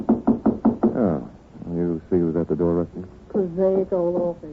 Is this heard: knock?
yes